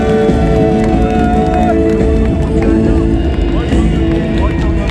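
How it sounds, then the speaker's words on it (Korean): Loud, continuous crowd noise at an outdoor Korean political rally in Mokpo opposing the release of contaminated nuclear wastewater, with cheering, whoops and clapping running steadily throughout, plus some voices mixed in. "뜨거운 박수 부탁드립니다."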